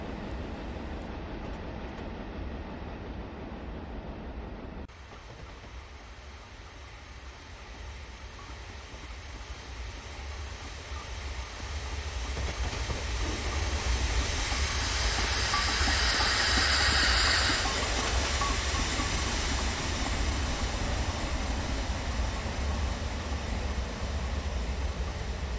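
Steam engine slowing and braking as it pulls into a station, a steady rumbling hiss that swells into a loud, sustained steam roar before holding at the platform.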